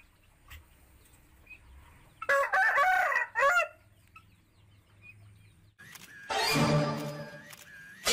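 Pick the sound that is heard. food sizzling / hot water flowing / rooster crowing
rooster crowing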